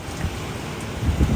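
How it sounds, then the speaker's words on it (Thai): Steady rain hiss with low rumbling swells that suggest distant thunder, a continuous stormy wash with no voices, during a storm in southern Laos. "พายุเข้ามาลาวใต้"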